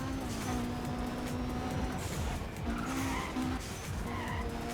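A car skids while racing on the Silk Road track in the Soapbox Race World video game, giving repeated tire squeals over a continuous engine drone, with some whooshes of passing traffic and no talk.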